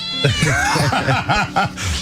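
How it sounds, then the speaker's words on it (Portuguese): A small female cat meows several times in quick succession, close by and fairly loud, with no voices around it. "É gato também? é a gatinha."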